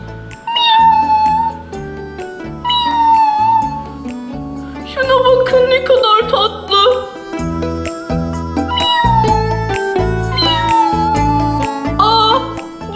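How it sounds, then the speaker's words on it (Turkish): Repeated cat meows, high and wavering, at an animal shelter, over a steady bed of music with a pulsing bass line, fairly loud throughout. "Ay bu çok tatlı bir kedişmiş."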